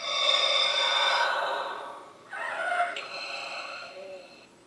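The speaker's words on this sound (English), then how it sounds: "You get that labored breathing" Hasbro Black Series Darth Vader helmet toy playing its labored breathing effect once taken apart, a loud electronic hissing breath that swells, dips, then returns in a second, softer breath cycle.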